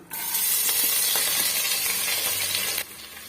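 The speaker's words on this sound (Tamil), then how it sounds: "இப்போ இது கூடவே நம்ம கட் பண்ணி வச்சிருக்க வெங்காயமும் இஞ்சி பூண்டு பேஸ்ட்டு கருவேப்பிலை இது மூணுமே சேர்த்துக்கலாம்" Sliced onion, ginger garlic paste and curry leaves drop into hot oil in a pan for a banana flower gravy, giving a loud steady sizzle and hiss that cuts off sharply near the end.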